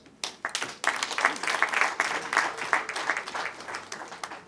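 Applause at a wedding gathering, a crowd clapping steadily and fairly close for several seconds after a brief pause, with no talk over it.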